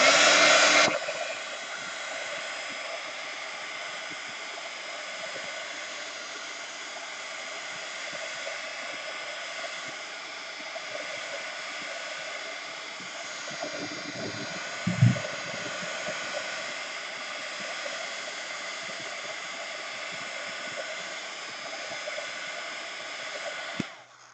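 A hair dryer blows continuously for about twenty-four seconds while drying a watercolor painting, a steady close whooshing roar with one brief bump midway.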